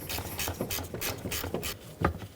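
A ratchet socket wrench clicks in quick repeated bursts while loosening a 13mm nut on the alternator wire stud of a 2008-2017 Buick Enclave, close and fairly loud, alone without talk.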